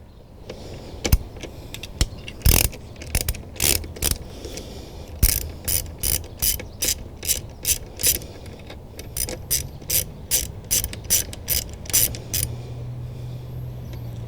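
A ratchet driver removes T30 fasteners from the body panels of a BMW K1200R Sport motorcycle, giving up-close ratcheting clicks in short, rhythmic bursts, sparse at first and then quicker and more regular.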